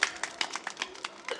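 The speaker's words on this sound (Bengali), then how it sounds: "আস্তে হাততালি, আস্তে।" Soft, quick hand claps patter in a light, even run, faint and close, with no voices over them.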